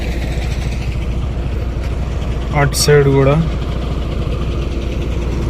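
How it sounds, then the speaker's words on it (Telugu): Buses lined up at Kothagudem bus stand idle with a steady low engine rumble, while a voice speaks briefly close by over the drone. "లైన్గా బస్సులు ఇలా పడ్డాయి"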